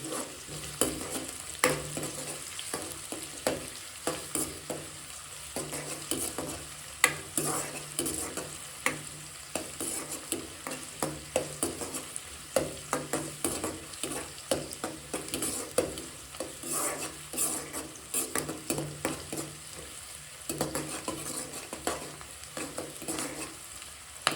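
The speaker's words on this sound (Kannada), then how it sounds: "ಈರುಳ್ಳಿ ಸ್ವಲ್ಪ ಬ್ರೌನ್ ಕಲರ್ ಬರಬೇಕು, ಅಲ್ಲಿವರೆಗೂ ಚೆನ್ನಾಗಿ ಫ್ರೈ ಮಾಡ್ಕೊಳ್ಳಿ ಈರುಳ್ಳಿನ ಎಣ್ಣೆಯಲ್ಲಿ" Onions frying in oil in a pan for egg rice, a continuous sizzle broken by frequent rhythmic scraping taps of a spatula stirring, close and steady with no voices.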